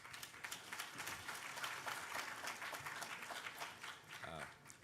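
Applause from a crowd at a hackathon closing ceremony as a finalist team takes the stage, a quiet, distant patter of clapping with scattered louder claps and a brief voice-like sound near the end.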